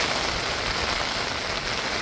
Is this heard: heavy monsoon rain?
yes